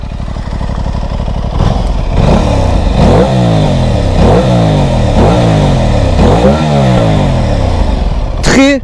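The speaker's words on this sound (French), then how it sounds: "je vais vous faire écouter la sonorité du pot" A 2023 Aprilia RS 660 sport motorcycle revs hard through its exhaust in a series of about six sharp throttle blips, each rising and falling, loud and close, over a steady idle.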